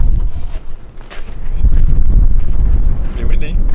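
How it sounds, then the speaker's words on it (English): Gusty wind buffets the microphone in low rumbling bursts at a high-altitude campsite around 4000 metres in Tajikistan, with a voice talking faintly underneath. "Pretty windy."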